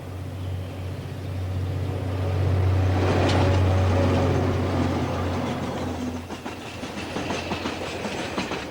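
A heavy express coal train bound for Glenbrook Steel, New Zealand, rumbles past nearby, deep engine drone swelling then easing into a rhythmic clatter of wagons rolling over rail joints.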